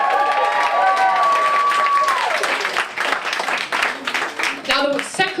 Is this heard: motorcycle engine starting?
no